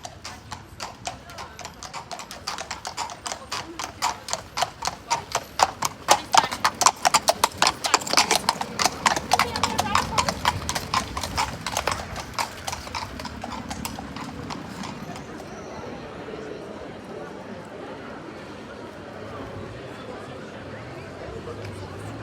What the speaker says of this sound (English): And here comes the horse and cart for the wedding.